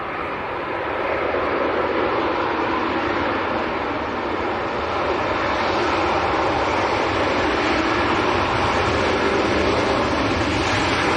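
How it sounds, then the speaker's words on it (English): A steady, loud jet engine roar from an airliner landing in a gusty crosswind at Leeds Bradford Airport, sustained without a break and heard from an outdoor spotting position. "Seem to be handling this crosswind quite well."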